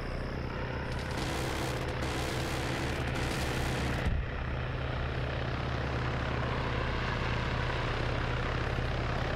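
A helicopter flies in a multiplayer military video game, with a steady loud rotor and engine drone filling the scene throughout, briefly overlaid by distant gunfire, with no talk.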